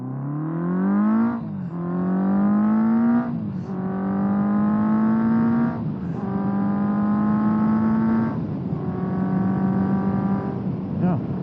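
A 1979 Honda CB750F Super Sport motorcycle accelerates hard through several gears, a loud rising engine note climbing repeatedly with short dips at each shift, close and continuous.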